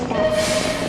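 A train running steadily for under a second, a loud, even rumble with a thin high squeal riding over it and no voices.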